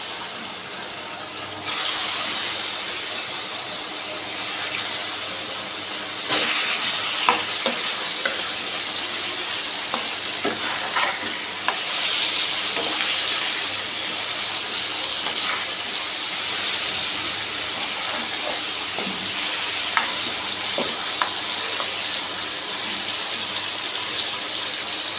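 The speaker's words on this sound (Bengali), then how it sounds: "মাংসের পিসটা একটু ভেজে নিব।" Chicken meat pieces fry in a pan with a loud, continuous sizzle, a hiss that swells partway through, and scattered crackles and utensil scrapes; no talking.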